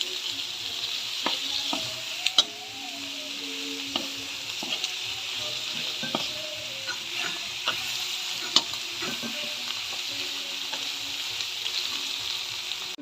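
Meat sizzles steadily in a hot frying pan, a constant hiss with occasional sharper pops and stirring scrapes, close and alone.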